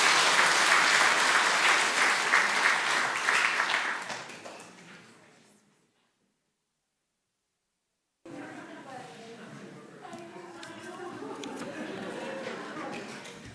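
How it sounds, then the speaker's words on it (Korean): A church congregation applauds during a Korean Sunday worship service, with dense, loud clapping that fades out after about four seconds. A short silence follows, then quieter room sounds. "우리 박수로 환영하시겠습니다"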